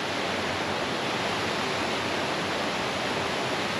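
Waterfall on a Swedish thru-hike pours in a steady, dense rush of broadband noise, loud and unbroken throughout, with no voices or other sounds.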